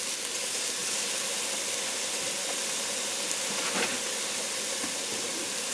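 Spinach bhaji fries in a pan over very low heat, giving a steady, even sizzle and hiss that stays constant throughout with no pauses.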